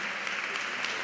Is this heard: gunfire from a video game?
no